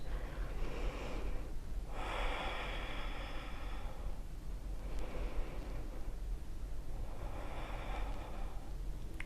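Deep, slow breathing during a yoga pose, heard as long airy inhales and exhales that rise and fall in a steady rhythm, close to the microphone and without talking.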